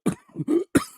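A short burst of harsh coughs close to the microphone, three or four in quick succession.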